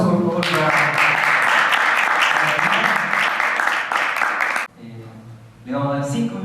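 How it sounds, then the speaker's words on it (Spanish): An audience at a student forum on social responsibility bursts into loud, sustained applause that cuts off abruptly, followed by a short pause and then renewed clapping. "Un aplauso, por favor"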